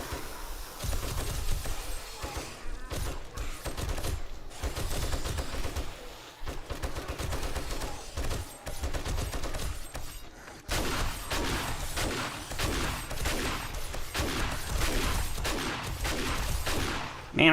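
Repeated shotgun blasts hit an armored zombie in 7 Days to Die, loud and close, with booming shots fired in quick succession over a dense, continuous stretch of combat noise.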